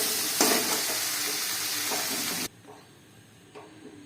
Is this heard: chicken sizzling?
yes